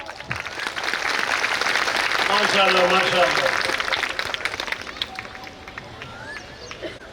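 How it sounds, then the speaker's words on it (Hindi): Students applaud at the end of a school drama, with dense clapping swelling in the middle and easing off while voices call out over it. "अब सब स्टूडेंट तालियां बजाते हैं और यहाँ पर ड्रामा का एंड होता है।"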